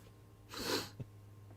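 A single sharp sneeze bursts out nearby, followed by a short sniff, against a quiet room hum.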